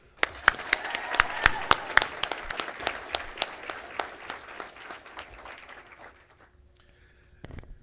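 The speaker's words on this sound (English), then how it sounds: "let's give a huge, huge blue and gold round of applause for our John Deere partners" Audience applause for John Deere partners at a foundation donor recognition and awards presentation: a burst of many sharp hand claps that gradually thins and fades out over several seconds.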